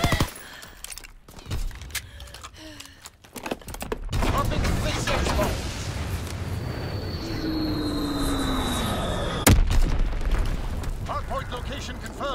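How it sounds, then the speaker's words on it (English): A Fritz X bomb falls and detonates in a war video game, a whistling drop followed by a heavy, rumbling blast and sustained booming, with brief voice lines before the impact. "Dropping Fritz X-Bomb."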